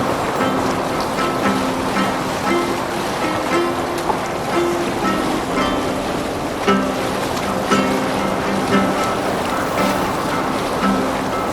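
A boat sailing through a fjord in Assassin's Creed Valhalla, with continuous waves and surf washing against the hull under a steady wind rush, loud and unbroken throughout.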